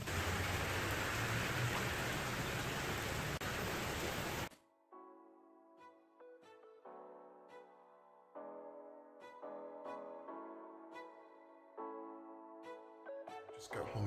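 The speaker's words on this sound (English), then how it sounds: "So the one day I forget my umbrella, it decides to rain." Heavy rain pours in Florida as a loud, steady broadband hiss for about four and a half seconds, then cuts off abruptly and gives way to other sounds.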